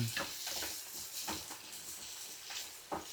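Squid sizzling and frying in a home kitchen pan for a seafood gravy, with a steady crackling hiss and several soft scraping stirs at irregular intervals, close and moderately quiet.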